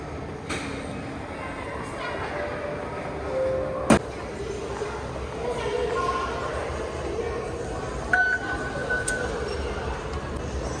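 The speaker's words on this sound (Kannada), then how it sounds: "ಟ್ರೈನ್ ಬಂದಿದೆ, ಯಾವ ಸೈಡ್ ಬಂದಿದೆ ಗೊತ್ತಿಲ್ಲ." A metro train pulls into a station on a rainy day in China, its steady rumble running under the noisy ambience of a platform crowd with occasional thumps and brief tones.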